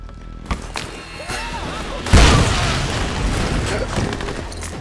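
A grenade blows up in the video game Army of Two: The Devil's Cartel, a loud booming blast with a rumbling tail amid game effects and background noise.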